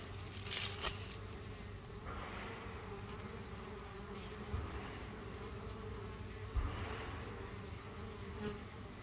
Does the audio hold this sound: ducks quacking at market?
no